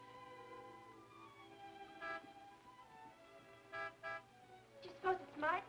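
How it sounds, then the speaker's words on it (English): A car horn honks outside in a 1940s film scene: several short toots in a row, beginning with one and ending in a denser cluster, playing over a steady background music bed with no speech. "You know Martin would never honk a horn at a lady"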